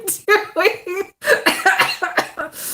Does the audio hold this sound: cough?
yes